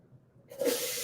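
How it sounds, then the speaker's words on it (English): White onions hit a dry, oil-free pan and break into a sudden bright sizzle that holds steady for the rest of the moment, fairly close. "You hear the sizzle."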